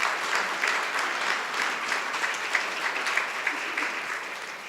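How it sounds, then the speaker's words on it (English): An audience at a chamber of commerce association meeting applauds, dense sustained clapping from many hands in a large room that holds steady throughout. "and that deserves a round of applause"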